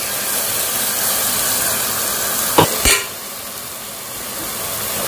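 Mashed tomatoes fry in a generous pour of hot oil, giving a steady, loud, close sizzle with two sharp knocks of a ladle partway through, after which the hiss settles a little quieter. No one speaks.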